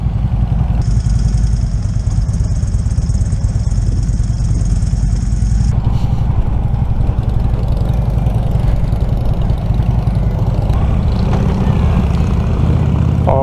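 A Harley-Davidson Electra Glide Police motorcycle engine runs close and loud in a steady, unbroken drone, with a high whine layered over it for the first half.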